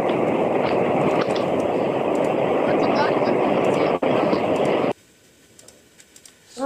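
A minecart or train ride in the Minecraft video game gives a loud, steady rumbling rush that runs several seconds before stopping abruptly, with a brief faint click afterward.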